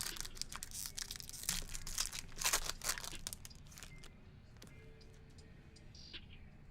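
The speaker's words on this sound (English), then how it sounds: "There's a little shuffle." Trading cards shuffled by hand during a card break, a close run of dry crisp riffling and crinkling bursts that thin out into softer, sparser ticks near the end.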